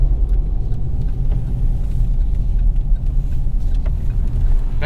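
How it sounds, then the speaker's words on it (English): A 2021 Chevy Colorado ZR2 on the highway, its engine and road noise forming a steady, loud low rumble with continuous tire roar from big all-terrain tires, no talk over it. "It's actually the engine that you probably notice the most."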